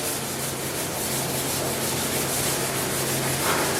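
A car body panel being sanded by hand with 600 grit sandpaper gives a steady, close, continuous rubbing scrape, alone and unbroken for the whole stretch.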